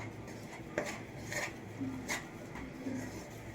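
Gram flour and wheat flour roasting in a pan for wheat halwa, with soft scraping and rubbing of a spatula against the metal and a few light clinks, steady and close.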